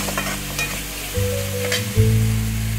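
Cooked rice being stirred into baby corn fried rice in a hot pan, with steady scraping and spoon strokes over a continuous close sizzle.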